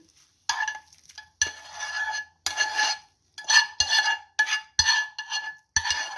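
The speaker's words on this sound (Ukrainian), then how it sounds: "додаємо до нашої картоплі нашу зажарочку" A fried onion-and-carrot mix is tipped from a pan into boiled potatoes in a pot, giving a string of brisk scraping and clinking bursts separated by short pauses, close and fairly loud.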